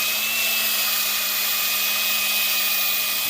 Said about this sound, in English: I'm going to take the grommet here. I'm going to drill it out.